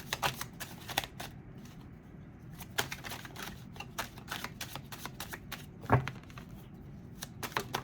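Tarot cards are handled and shuffled nearby in quick, crisp flicks and riffles, with one louder thump near the end and no talking.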